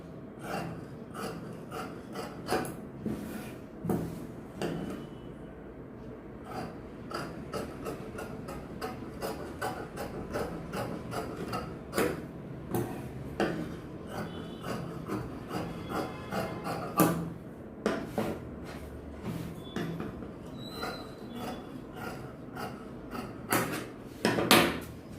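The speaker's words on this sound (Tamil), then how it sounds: "அதனால நான் பேக்கை வெட்டுறேன்." Scissors cut through blouse fabric in a long run of short, crisp snips and rustles that are close and fairly quiet, with brief pauses and no speech.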